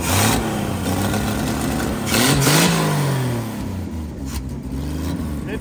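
An engine runs steadily with a few rising revs, close by and fairly loud, a vehicle just brought back to life after a repair, with no talk over it.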